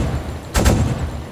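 Cannon and gunfire in a modded U-boat submarine warfare game, heard as a single short blast with a sharp broadband onset and brief rumbling tail, fairly loud against a low background hum.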